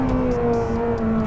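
A Lamborghini Temerario engine holds a loud, steady, close tone under throttle with a strong droning harmonic, heard from inside or near the car with no speech over it.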